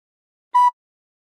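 A recorder plays one short, clean held note from We Wish You A Merry Christmas, with silence before and after it.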